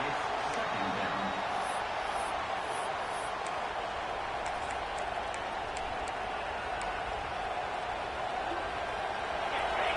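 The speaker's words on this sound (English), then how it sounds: "this home crowd is fired up and ready to make a difference today" A home crowd at a college football game roars in a steady, dense wash of cheering that holds for the whole stretch, with a few sharper whistles and shouts poking through near the top.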